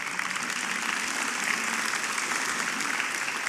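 Audience applause in a university hall during a business talk show, a steady dense wash of clapping that holds evenly for several seconds with no talk over it.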